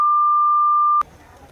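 A single steady censor beep, a pure electronic tone lasting about one second that cuts off abruptly into faint background noise during a poker game broadcast.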